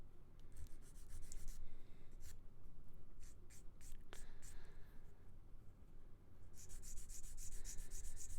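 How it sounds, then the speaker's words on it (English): Hand-sanding a plastic part from a Gundam model kit, 00 Raiser with GN Sword III, a soft repeated scratchy rubbing in short strokes, close and quiet, with a voice speaking low beneath it. "you got to sand that part down a little bit better"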